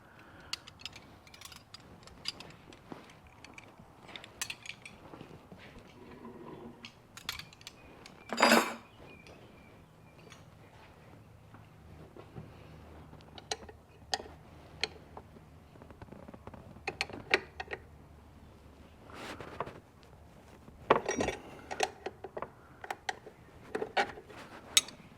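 Metal wrenches clinking and rattling while fuel injectors are replaced on a Toyota 3.4L V6 (5VZ-FE) in a Tacoma, with scattered sharp clanks and scrapes over quiet background.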